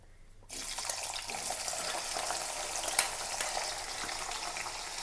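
Sliced ginger, about a hundred grams, dropped into hot oil bursts into a sudden steady sizzle after a brief quiet start, moderately loud and close, with one sharp click near the middle and no voices.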